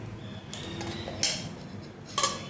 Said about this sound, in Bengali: এক চামচ মতো চিনি দিয়ে দিচ্ছি।